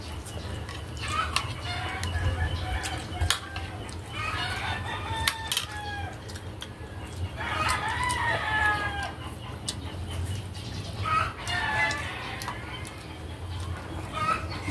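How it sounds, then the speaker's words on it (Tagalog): Chickens at a neighboring yard crow and cluck repeatedly, with several crowing bursts rising over a steady low background hum at moderate distance. "Maraming manok dito sa kapitbahay."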